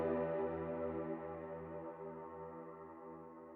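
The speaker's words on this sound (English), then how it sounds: "I've got a piano that's going into some reverb, some chorus, another instance of reverb" A heavily processed piano, fed through reverb, chorus and a second reverb, rings as a faint sustained chord with soft repeated low notes beneath and a long washed-out decay, heard alone.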